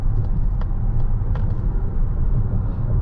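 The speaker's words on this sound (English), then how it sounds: "You really can hear that electric motor whine now." A 2024 Mazda CX-90 plug-in hybrid pulls hard in EV mode with a faint electric motor whine over a steady low road rumble inside the cabin.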